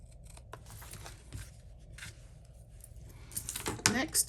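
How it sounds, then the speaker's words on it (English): Scissors trim paper for a stamped craft project in a few close, crisp snips and rustles that grow busier toward the end, with faint clinking of tools on a work surface. "Then we're going to take our scissors."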